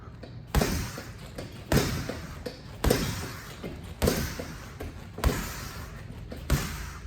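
Straight punches land on a heavy boxing bag in peek-a-boo drills, six solid thuds at roughly one-second intervals, close and punchy with faint movement between hits.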